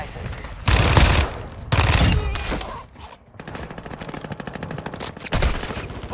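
Incoming gunfire strikes the player in Call of Duty Warzone: loud, close bursts of rapid automatic fire come in several volleys with brief gaps, mixed with game effects and a voice.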